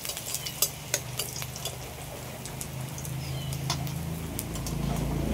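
Nigella seeds dropped into hot oil for a fish curry with ridge gourd and potato produce a moderate, continuous sizzle and light crackle, swelling slightly toward the end, with a few sharp clicks early on and no talking.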